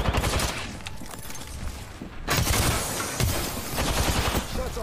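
Gunfire in Apex Legends, rapid bursts of automatic shots crackling close and loud in several volleys separated by a brief lull, continuing steadily to the end.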